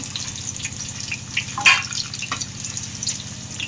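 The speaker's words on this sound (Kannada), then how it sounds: "ಉರಿಯಲ್ಲಿ ಇಟ್ಕೊಂಡು ಫ್ರೈ ಮಾಡ್ಕೊಳ್ಳಿ." Chicken kabab pieces frying in hot oil over a flame, a steady close sizzle and bubbling crackle running throughout with a brief sharper spatter midway.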